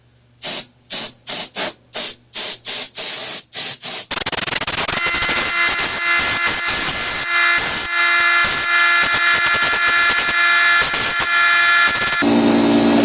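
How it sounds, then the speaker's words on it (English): Compressed air blowing dust off a home heating furnace and burner: a rapid series of short loud blasts, then a long continuous roaring hiss lasting about eight seconds, close and loud. "Now we'll go kind of blow all the dust off of what I missed with the vacuum"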